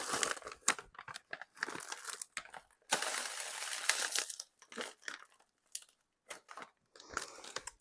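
A pint-sized plastic storage bag of freeze-dried herbs with an oxygen absorber crinkles and crunches up close as air is pressed out and it is zipped shut, in irregular bursts with short silent gaps.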